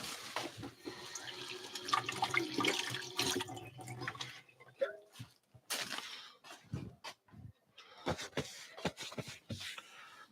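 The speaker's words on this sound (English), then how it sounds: "I'll wash my hands too. Plus, I'm going to rinse this off." A running tap splashes into a sink as hands are washed and an item is rinsed off at a coffee-making setup. The water flows steadily and is broken by several interruptions and drips.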